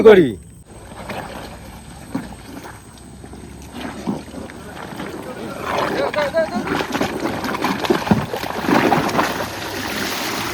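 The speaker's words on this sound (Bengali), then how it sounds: "নৌকো তো নামিয়ে নিয়ে সবাই কিন্তু উঠে পড়েছি নৌকাতে" A small fishing boat is pushed into the water and climbed aboard at night in the Sundarbans, with a sharp knock at the start, then shuffling, splashing and wind noise that grow busier toward the end.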